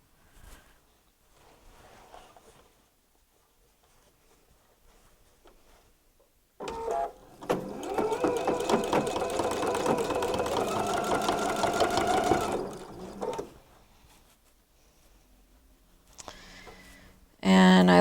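A sewing machine runs a steady stitching burst of about five seconds on a sparkle tote bag, backstitching to reinforce the top and bottom seams, with quiet moments before and a short restart near the end.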